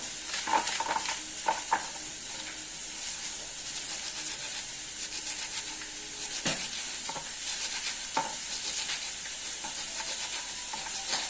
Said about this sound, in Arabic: انا سايبه السمك بيتشوي